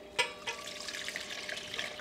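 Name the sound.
water being poured into slow cooker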